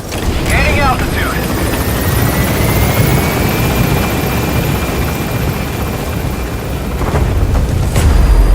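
Steady, loud rotor thrum of a helicopter climbing in Metal Gear Solid V: The Phantom Pain, with a deep continuous engine drone and a faint rising whine throughout, and a brief chirp near the start.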